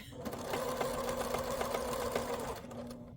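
A sewing machine runs steadily while stitching an inside corner of fabric, its rapid mechanical whir and needle clatter close and continuous before stopping near the end.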